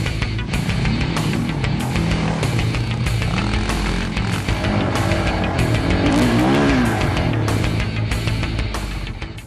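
A Polaris Outlaw 500cc ATV engine drives hard, loud and close, with a gritty, steady drone that rises and dips as the throttle changes, and rough clattering over the terrain.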